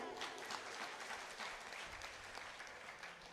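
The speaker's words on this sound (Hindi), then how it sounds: "एक बार इस पूरे मंडल के लिए जोरदार तालियां।" An audience at a devotional bhajan gathering claps loudly and steadily for the singing group, a dense wash of applause filling the whole moment.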